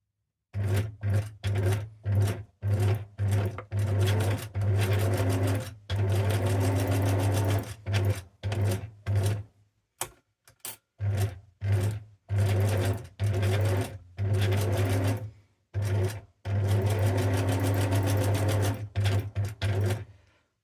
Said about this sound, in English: And get these all sewed up.